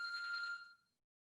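A telephone rings once with a bright electronic trill that fades out within a second, faint and alone.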